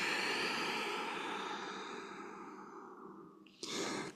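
A long, soft exhaled breath during a yoga flow, steady and fading slowly over several seconds, heard alone and close, followed by a brief sharper breath noise at the end.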